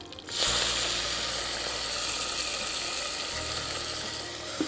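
Steady frying sizzle of small onions and tomatoes sautéing in a hot pan, close and continuous, with a faint mechanical hum underneath.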